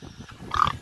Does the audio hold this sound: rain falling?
no